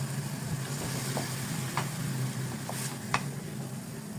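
Minced beef frying in a pan with onion, ginger, garlic and tomato, a steady close sizzle with occasional stirring scrapes and small clinks, no talking.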